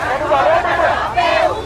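An angry crowd of protesters storming the Sri Lankan prime minister's house, a dense, agitated babble of many voices shouting and chattering at once, loud and continuous.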